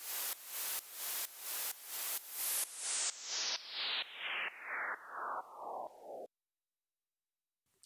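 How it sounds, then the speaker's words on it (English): A series of about thirteen bright synthesized white noise bursts, evenly spaced and loud, each one duller than the last as the highs roll away, then sudden silence. "And then we've got the white noise."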